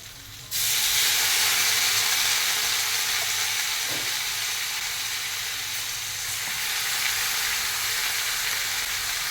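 A spice paste of turmeric, coriander, cumin and Kashmiri chilli powder with a splash of water is cooked in a pan, breaking into a loud, steady, close sizzle that hisses on without talk.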